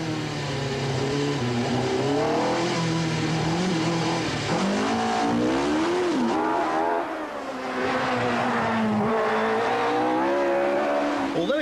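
A rally car on a hill stage of the 1991 Jersey Rally, its engine revving hard and rising and falling in pitch as the driver works to warm the tyres, with brief tyre squeal over a continuous loud engine note.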